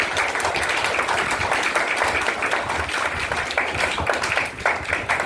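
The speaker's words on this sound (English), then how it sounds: "Please give us a big round of applause." Audience applause at a school's World Environment Day celebration: dense, steady clapping from a crowd for several seconds, with a voice faintly audible underneath.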